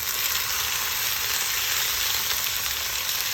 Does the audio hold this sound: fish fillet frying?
yes